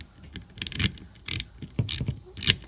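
Tiny T8 Torx bolts are unscrewed with a small driver, giving a few sharp, close metallic clicks and ratcheting ticks in irregular bursts against near silence.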